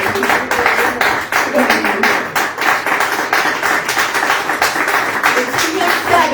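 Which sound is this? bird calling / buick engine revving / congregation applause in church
congregation applause in church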